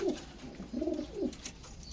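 Sialkoti pigeons coo close by while being handled, a few distinct throaty rolling calls in quick succession over quiet background noise.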